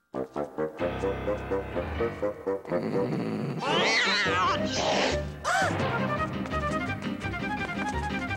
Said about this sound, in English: where there's a cat's door, there's usually a cat.